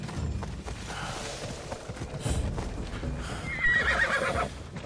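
In Assassin's Creed Odyssey, a horse whinnies near the end over the steady clip-clop of hooves and a low rumbling background, with no talking.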